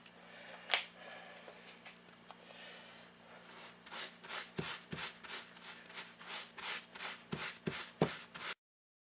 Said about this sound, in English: let's try scrubbing first.